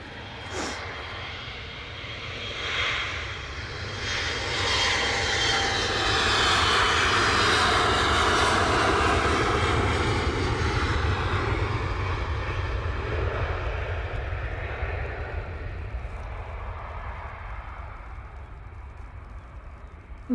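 Airliner engines of a KLM plane roaring steadily at Manchester Airport, a loud, sustained rumble swelling to a peak midway before easing off slightly, with no talk over it.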